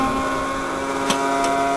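Steady electric blower droning on a homemade woodgas flare over a bed of glowing coals, a continuous hum with a slight shift in pitch and two brief bright hisses partway through.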